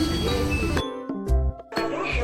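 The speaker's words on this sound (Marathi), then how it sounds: "ट्रेनची अनाउन्समेंट आता झाली आहे." A bright electronic chime rings out in a few clear tones over a steady background hum, a railway announcement signal at Vaibhavwadi station.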